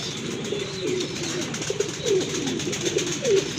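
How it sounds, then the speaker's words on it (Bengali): Pigeons of the King and Golla breeds coo in a series of soft, repeated, throaty calls close by, over a steady background hum. "এখানে কিন্তু আরেক জোড়া কবুতর আছে ভাই কি কবুতর এগুলো এটা হলো একটা কিং আর একটা হলো গোল্লা"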